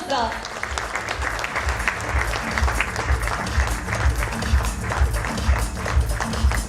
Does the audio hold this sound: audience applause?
yes